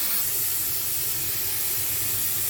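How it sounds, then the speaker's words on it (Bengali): Pot of chickpeas and peas boiling on a stove for papdi chaat, giving a steady, loud, unbroken hiss of steam with a faint low bubbling underneath and no talk. "এখানে আমি ছোলা আর মটর সিদ্ধ বসিয়ে দিয়েছি।"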